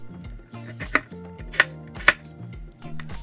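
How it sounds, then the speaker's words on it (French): A knife slicing carrots diagonally on a cutting board, three distinct sharp chops at a steady pace over a faint musical backdrop. "on coupe les extrémités et on va détailler en biais pour avoir des tranches plus longues"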